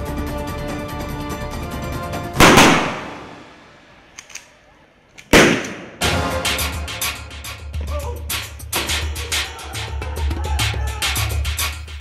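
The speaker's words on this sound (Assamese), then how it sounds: "গুলি ফুটিছে।" Gunshots ring out during an Assam commando battalion operation: two sharp, loud single cracks spaced a few seconds apart, then a busy stretch of clattering impacts and bangs over a low rumble.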